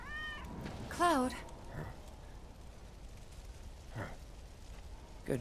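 A cat meows twice in Final Fantasy VII Remake, a clear rising-falling cry near the start, with quieter game ambience and faint sounds after it.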